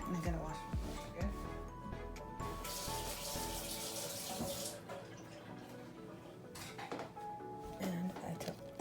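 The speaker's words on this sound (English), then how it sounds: "And I gotta wash my brush again." A paint brush is rinsed under a running tap in a sink, with steady water flow building for a couple of seconds amid clatter and handling noises, while a person talks over it.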